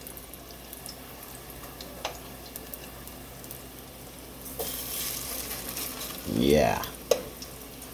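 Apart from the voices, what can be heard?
plantain frying in a pan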